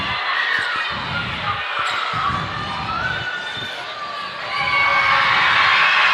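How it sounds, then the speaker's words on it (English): A crowd screams and roars at a Class 3A high school basketball game between Lander and Mountain View during free throws. The din is loud and sustained, swelling near the end, with low ball-bounce thuds underneath. "Crowd screaming"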